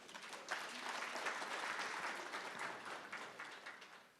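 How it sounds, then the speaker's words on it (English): Audience applause at a formal event honouring the women, peace and security agenda, with steady dense clapping that swells and holds across the whole stretch before tapering slightly at the end. "this definitely deserves a round of applause"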